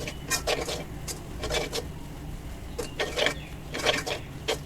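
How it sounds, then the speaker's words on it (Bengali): Tikka masala and garam masala spices being stirred and fried in a pan: repeated clattering scrapes of a spoon against the pan in irregular bursts over a soft background sizzle. "1 চা চামচ টিক্কা মশলা, 1 চা চামচ গরম মশলা দিয়ে ভালো করে নেড়ে চেড়ে মশলা ভেজে নেব।"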